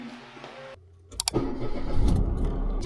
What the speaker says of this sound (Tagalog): Labas muna natin yung kotse.